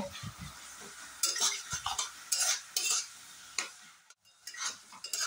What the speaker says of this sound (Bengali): পেঁয়াজ লাল করে ভেজে নেব।